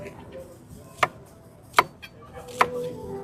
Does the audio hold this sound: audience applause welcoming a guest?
no